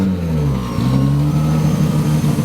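A Toyota Supra engine revs loudly and close, a strong low droning tone that dips briefly and then climbs and holds steady, dominating the sound with no voices.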